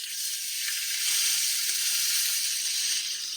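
Thin slices of meat sizzle in olive oil in a cast iron pan, a steady, close, even frying hiss that carries on without a break.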